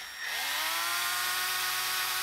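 A drill spins an engine valve against its seat during a valve job on a 2.2L turbo cylinder head, the valve tip gripped through a slipped-on piece of rubber; a steady, loud whirring grind holds evenly throughout after a brief start.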